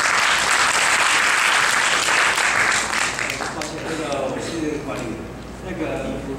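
An audience applauds at a certificate-presentation ceremony, with loud, dense clapping at the start that thins out and gives way to a speaker's voice over the fading claps.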